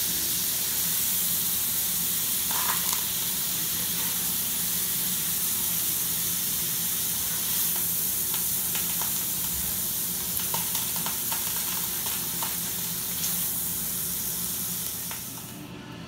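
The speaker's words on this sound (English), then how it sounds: "you just want to brown the sausage because the sausage is primarily already cooked" Sausage browns in a pot for Cajun red beans, giving a steady, dense sizzle and crackle of hot grease that runs unbroken for many seconds, with occasional sharper pops and a soft fade at the end.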